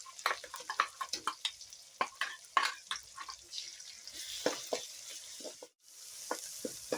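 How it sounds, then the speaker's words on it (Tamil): Ginger garlic paste fries in a pan with a soft sizzle, punctuated by a quick run of sharp taps and scrapes from stirring, briefly falling quiet before the frying resumes. "இஞ்சி பூண்டு அரைச்ச விழுதை போட்டுக்கலாம். அப்போ நல்லா வறுபடும், நல்லா வேகும்."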